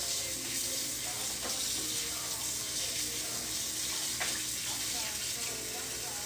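A tie-dye shirt in earthy and orange colours is rinsed under running water, producing a steady, close, broadband splashing rush that continues unbroken, with a few faint knocks and handling sounds mixed in.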